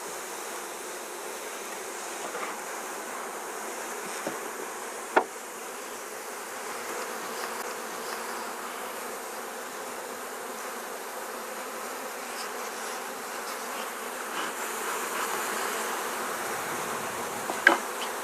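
Honey bees swarming around an opened beehive during queen release, a steady, soft, continuous buzzing close by with a couple of faint clicks and no talk.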